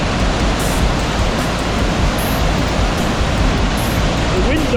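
Hareshaw Linn waterfall after heavy rain roars as a dense, unbroken wash of falling water, loud and close, with a steady rushing hiss throughout.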